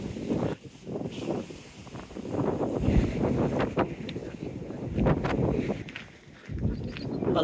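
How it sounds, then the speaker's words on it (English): Strong gusts of wind buffet the microphone on the seawall at Teignmouth, a continuous low rumbling roar that swells and dips, loud and close, with no talk. "it's the wind making it not pleasant to take it off"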